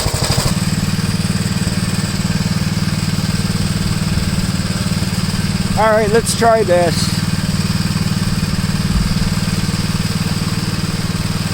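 A tractor engine runs in low range with a steady loud idling drone throughout, while someone speaks briefly over it.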